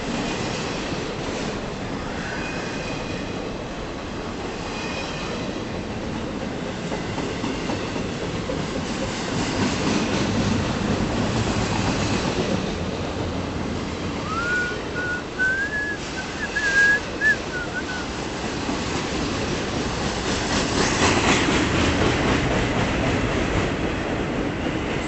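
A southbound CP intermodal freight train led by a blue locomotive rolls past at steady, moderately loud volume for the whole stretch, with wheel rumble throughout and a brief high whistle-like squeal partway through.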